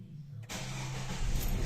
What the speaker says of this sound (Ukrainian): Зараз продемонструю, як двигун запускається та робить.